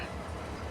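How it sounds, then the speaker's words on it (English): Freight train arriving in Farming Simulator 22, a faint continuous rumble of rolling wagons and rail noise with no talk, heard at low level throughout the brief moment. "Here's the train."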